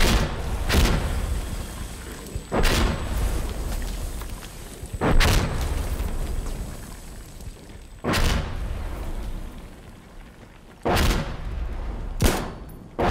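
Explosions and gunfire in the video game Insurgency Sandstorm, with a grenade detonating among sharp, booming blasts that recur every couple of seconds over a steady layer of battle noise.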